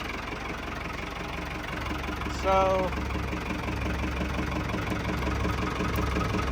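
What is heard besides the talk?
Ford 5000 diesel tractor engine idling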